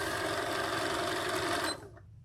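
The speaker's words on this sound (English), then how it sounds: "You just hit the button to make the machine go, and that's how you sew." A sewing machine stitches a quilted heart table runner block in a rapid, steady whir of needle strokes, heard close up. It stops abruptly near the end, leaving a quiet hum.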